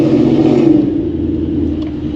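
Straight-piped Ford Mustang S550 engine and exhaust on a night drive, a loud, steady deep rumble as the car accelerates, heard close from inside the car with no talking.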